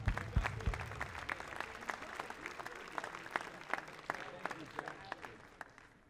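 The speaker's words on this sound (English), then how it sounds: "I'd like to give a round of applause" An audience at an awards broadcast claps steadily for several seconds, a dense patter of many hands with a few louder nearby claps standing out.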